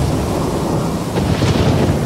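A thunderstorm sound effect roars loud and dense with strong wind and rumbling thunder, a broad continuous wash of storm noise with a brighter gust swelling near the end, no voices.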